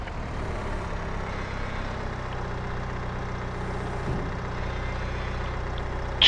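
Tractor engine in Farming Simulator 22 running at a steady idle, a low continuous rumble at moderate level with no speech.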